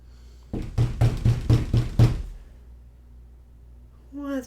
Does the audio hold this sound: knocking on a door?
yes